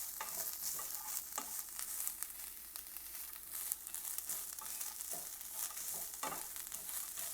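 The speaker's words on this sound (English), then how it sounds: "The coconut you can fry for 1 to 2 minutes" Grated coconut fries and gets stirred in a pan, a steady close sizzle broken by repeated scraping strokes of a spoon, with no talking.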